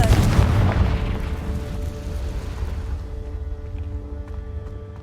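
A Confringo blasting spell explodes in a Harry Potter video game, a loud deep boom at the start that rolls into a long rumbling decay and fades over several seconds, with no talk.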